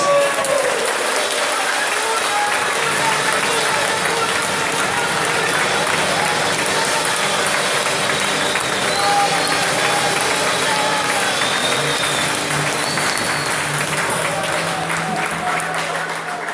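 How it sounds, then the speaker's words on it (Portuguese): A church congregation at a Sunday celebration applauds continuously, a steady, dense wash of clapping from many hands that fills the room and holds for the whole stretch. "Aplaude a Jesus."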